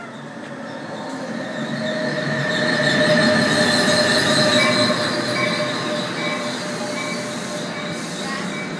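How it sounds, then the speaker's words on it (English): A train rolls in with a steady rumble, high wheel squeals and hissing brakes swelling to a peak, then easing off as it slows. "here comes our train"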